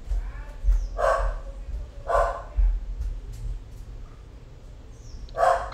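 A dog named Sadok barks three times at a steady spacing, a few seconds apart, close and fairly loud over a low background rumble in a home setting.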